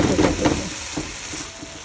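Curry sautéing in a pan, a dense close frying hiss with a few soft stirring scrapes near the start, steady throughout with no voices.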